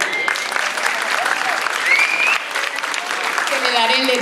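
A school hall audience applauds a student poster artist at a literary prize-giving ceremony, steady dense clapping throughout with crowd murmur and voices mixed in.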